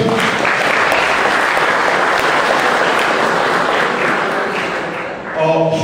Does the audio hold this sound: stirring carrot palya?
no